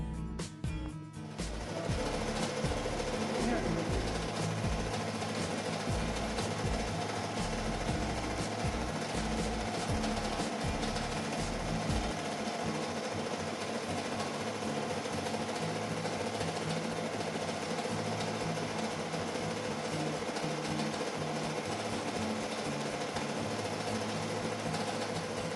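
A multi-needle embroidery machine stitches a design sample, a steady close mechanical drone with rapid fine rattling needle strokes running continuously after a brief start.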